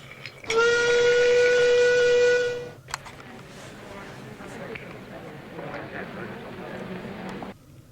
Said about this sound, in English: Beep, beep! He whistled to Duncan.